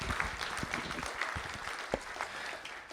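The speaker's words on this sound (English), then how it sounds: "give a round of applause" Applause from the audience at a school board of trustees meeting, a fairly quiet, steady patter of clapping with a few sharper claps standing out.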